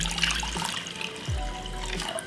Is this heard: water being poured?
yes